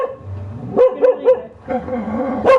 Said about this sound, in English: Shut up, doggies! Sorry, my dogs.